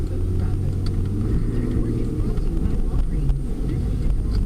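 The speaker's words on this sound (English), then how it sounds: "There's a lot of traffic today." Road traffic heard from inside a moving car, a steady low engine and road rumble that fills the whole stretch at an even level.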